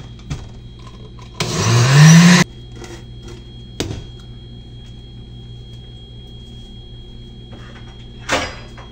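Blender grinding cinnamon with flour for mini donut batter, one loud whirring burst of about a second, with a few clunks and knocks before and after.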